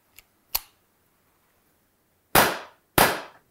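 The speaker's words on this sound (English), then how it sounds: "began shooting the Beretta for the very first time" A Beretta M84FS CO2 BB pistol fires with its blowback action: two quick sharp cracks, a pause, then two louder close shots with short decaying tails in an otherwise quiet setting.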